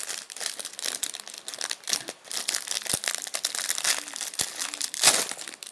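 Plastic bag of LEGO Ninjago pieces torn open and handled, a steady run of close, loud crinkling and crackling with sharp rustles throughout.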